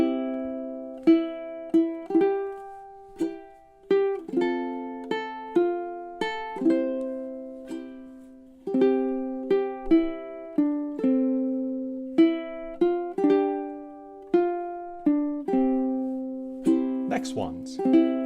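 A solo ukulele plays the opening four measures of O Holy Night as a slow melody of clearly plucked single notes and light chords, each note ringing and then decaying.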